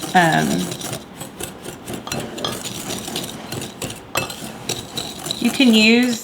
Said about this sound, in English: And I'm going to just cream it together with a whisk.